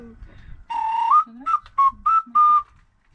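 A soft, breathy ocarina tone with a low, velvety sound plays a short phrase: one held note followed by several quick separate notes, close and clear.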